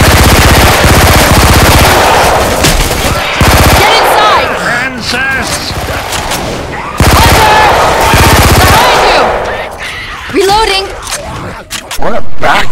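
Machine-gun fire in a first-person shooter game, loud sustained bursts of rapid shots in several volleys separated by short pauses, with voices talking in between.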